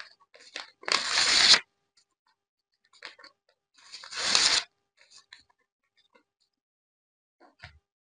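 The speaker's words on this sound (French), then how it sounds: "je déchire ça" A baccalaureate diploma being torn up by hand, two loud ripping bursts a few seconds apart, each lasting about half a second, with quiet handling rustles between.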